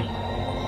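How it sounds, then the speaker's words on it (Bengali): Passing train on a railway line, a steady broadband rumble with rolling wheel and carriage noise, sustained and fairly close throughout the short moment with no talk. "ওইটাই তো রেলগাড়ি"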